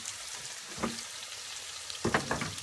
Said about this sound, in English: We're gonna take our green onions and put them in as well.